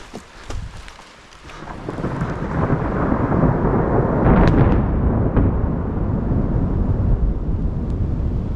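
Close lightning strike in a mountain valley during a storm, the thunder breaking into a loud, sustained rumble that rolls on for several seconds over steady rain.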